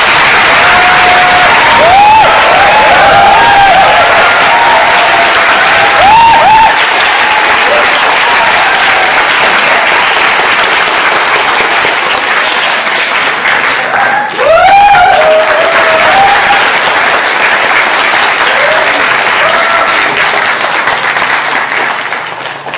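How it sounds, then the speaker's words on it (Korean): Big audience applause fills a lecture hall in Sydney as Yoo Si-min is introduced for a talk; dense, loud, sustained clapping with scattered cheers and voices throughout. "유시민 대표님을 소개합니다. 큰 박수와 함께"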